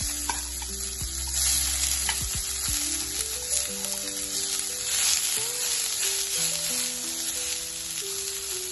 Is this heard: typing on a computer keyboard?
no